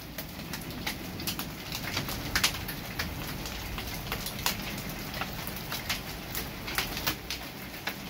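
Hail rains down steadily on a garden during a severe thunderstorm, a dense patter marked by frequent sharper cracks of individual stones hitting, continuous and close, with no talk.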